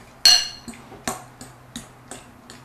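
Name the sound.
stirring eggs into potatoes in a bowl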